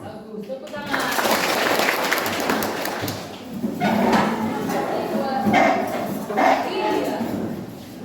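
Students of SMP 4 at a school lesson applaud as a group, a dense, sustained clapping that rises and falls across the clip with voices mixed in.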